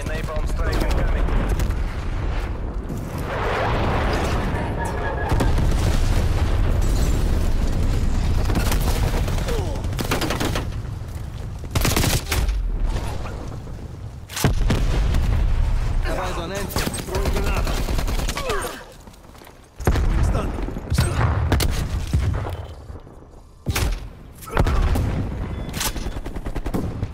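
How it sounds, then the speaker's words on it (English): Loud, dense gunfire and explosions from a Call of Duty Black Ops Cold War hardpoint match, an enemy napalm strike among them: continuous bursts and booms with brief lulls, some voices mixed in. "Enemy napalm strike incoming."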